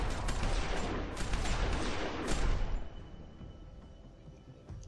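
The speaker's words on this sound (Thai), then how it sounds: "ตอนนี้เราต้องทำคือการยิง" Gunfire in The Walking Dead Season 2 video game: a dense, loud burst of rapid shots lasting about three seconds, then a sudden drop to quiet.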